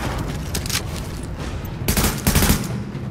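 Gunfire in Tom Clancy's The Division rattles in rapid overlapping bursts, with heavier volleys of automatic fire toward the end, loud and close over a constant combat rumble.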